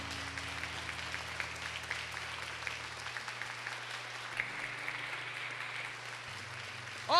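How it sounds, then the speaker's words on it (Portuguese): An audience applauding in honour of Our Lady of Fátima, a steady wash of clapping heard over a low sustained musical drone, with a sharp loud thump at the very end. "Aplauda com força, Mãe!"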